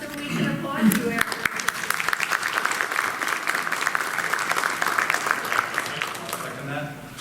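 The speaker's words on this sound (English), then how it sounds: "stand up so we can applaud you" An audience at a board of education meeting applauds a tenured teacher, with sustained, dense clapping that runs steadily for several seconds before tapering off.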